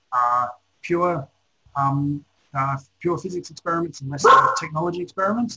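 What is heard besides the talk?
dog barking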